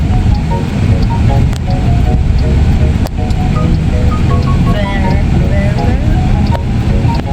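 Loud, constant drone of a large boat engine with wind buffeting and water noise, a voice faintly audible underneath.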